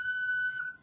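A small handmade clay whistle is blown in one steady, very high, pure tone that holds for most of a second, then fades, with faint background noise underneath.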